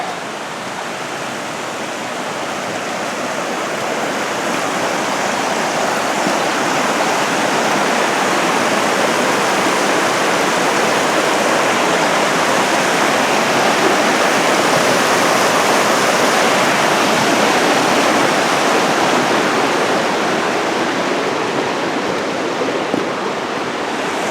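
Rushing water from Talapus Creek, a fast-flowing creek, a dense, steady roar that holds loud and even from start to finish.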